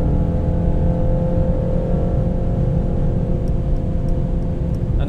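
A Mercedes-AMG cruising at high road speed on a smooth highway, heard as a steady, loud drone of engine and road noise from inside the cabin, unbroken and without talking.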